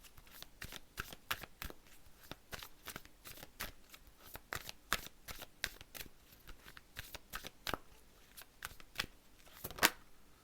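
Tarot-style divination cards of saints and angels being shuffled by hand, a steady run of crisp, close riffling flicks and slaps repeating for about ten seconds, with a sharper snap near the end and no talking.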